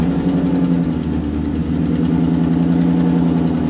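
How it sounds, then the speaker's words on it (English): A car idles on a cold start with an exhaust leak, giving a loud, constant low rumble with a steady drone and a faint rapid ticking pulse running through it, with no change in revs and no talk. "that's an exhaust leak"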